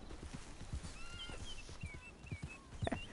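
Horse hooves clip-clop in a steady walking rhythm with a brief whinny from a horse in the video game Red Dead Redemption 2, close and fairly quiet, with faint game ambience.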